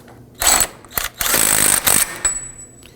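Ratchet snugging down an axle nut on a 2005-2009 Subaru Legacy during front steering knuckle replacement, heard as loud close bursts of clicking and whirring, several short runs with brief pauses between them.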